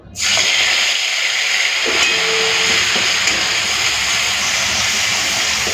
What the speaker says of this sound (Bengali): তেল তো গরম হয়ে গেছে, এরপরে দিয়ে দিচ্ছি বেটে রাখা মশলা